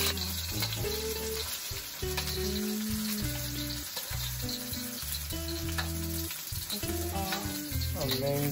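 Black bean stir fry sizzling in a hot pan, a loud continuous hiss and crackle heard up close without any talking.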